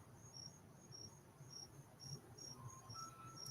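Crickets chirp in a steady, evenly spaced pulse, faint and high-pitched over a quiet low background hum, continuing without pause.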